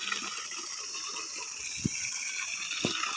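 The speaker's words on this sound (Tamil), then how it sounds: "இதான் நம்ம தண்ணி தனியாக வந்துட்டே இருக்கோம்" Water gushes steadily from the outlet pipe of a farm borewell motor in a village field, a continuous hissing rush with a couple of brief low thumps, and no talk.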